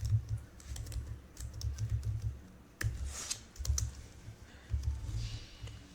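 Rapid keyboard typing on a computer during a terminal session, with bursts of close, crisp key clicks and brief pauses between runs, ending in sharp key taps.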